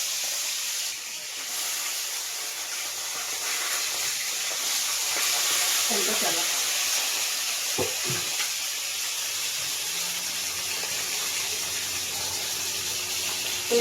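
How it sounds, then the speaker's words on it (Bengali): Shing fish fries lightly in oil with a soft, even hiss that stays in the background throughout. A few faint handling knocks interrupt it, and a low hum enters toward the end. "এই মাছ কিন্তু বেশি কড়া করে ভাজবো না এটা একদম লাইটভাবে ভাজা হবে"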